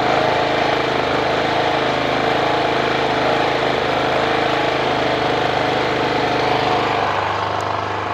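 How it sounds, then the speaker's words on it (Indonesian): A home generator set engine running cold before warming up, a steady loud droning hum with a slightly uneven beat, close and continuous with no talk. "suara mesinnya agak dendet-dendet itu, ini menandakan mesinnya belum panas"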